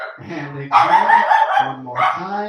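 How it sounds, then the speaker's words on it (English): A dog barks repeatedly outside, loud, harmonic yelps in short bursts that overlap someone talking during a swing dance lesson. "Terrible, terrible dog outside."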